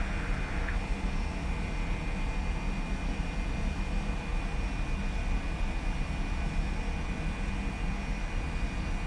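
Boeing 737-700 jet engines roar steadily on the runway during a flight simulator takeoff, a continuous broadband rumble with a faint tonal whine, loud and unbroken with no talk.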